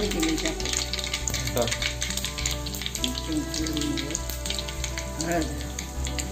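Asafoetida sizzles in hot oil in a pan while a potato bhaji is being made, a continuous close frying crackle with faint voices and light clatter underneath.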